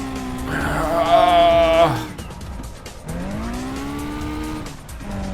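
Racing car engine roars and revs with sharp tire squeals in a video game, loud and close, fading then building again; a voice talks over it.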